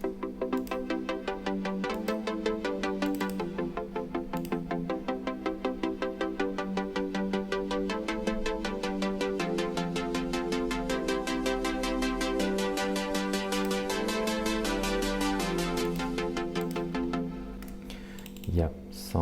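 Bright future bass chords made in FL Studio pulse in quick rhythmic stabs, their automated tone sweeping and shifting over about seventeen seconds before cutting off.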